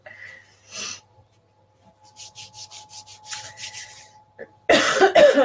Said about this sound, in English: I've got the incense going. It's making me cough.